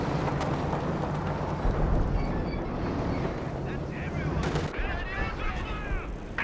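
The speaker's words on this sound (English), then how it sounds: "Artillery barrage preventing the capture." Artillery barrage in Company of Heroes 2, a 2v2 multiplayer battle, heard as a steady roar of distant shelling and gunfire with rumbling low booms, running continuously under a voice talking throughout.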